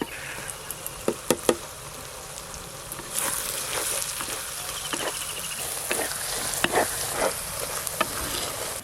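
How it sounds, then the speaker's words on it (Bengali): Ground coriander, cumin, turmeric and chilli powder fry in a pan with a steady low sizzle, broken by sharp clicks and knocks of a utensil against the metal. "মশলা সব কিছু ভালো করে কষে নিয়েছি"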